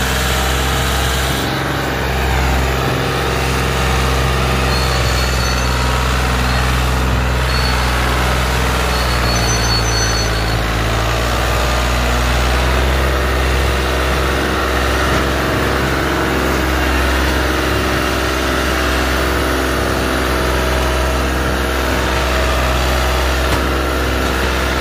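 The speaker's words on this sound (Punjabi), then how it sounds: "ਆਹ ਤਮਾਸ਼ਾ ਸ਼ੁਰੂ ਹੋ ਗਿਆ ਟਰੈਕਟਰ ਦੇ।" Tractor engine roaring steadily while pulling a sugarcane trolley through a burning field, loud and continuous at close range with a deep, constant drone and no talking.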